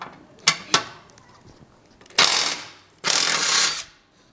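Ratchet removing bolts from the winch plate on a Jeep JKUR: two short sharp clicks, then two longer bursts of rapid ratcheting up close, with quiet gaps between and no talking.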